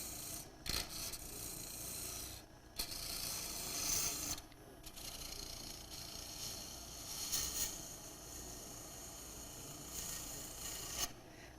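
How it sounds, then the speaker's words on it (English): A turning tool cuts wood on a lathe while a natural-edge goblet is being shaped, giving a continuous raspy shaving hiss with several louder bursts and quieter stretches, close and fairly faint overall, with no talking. "let's get rid of some of this extra wood here."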